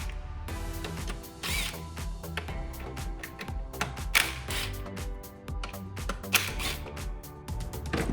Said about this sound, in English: So we're gonna go ahead and remove these bolts.